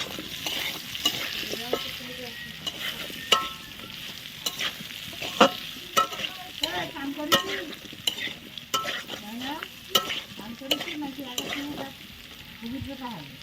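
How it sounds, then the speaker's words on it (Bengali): Sliced potatoes fry in hot oil with a little turmeric, giving a steady close sizzle broken by frequent sharp crackles, pops and scraping stirs throughout. "এই আলু তেলেতে ফেলেই ভাজবো"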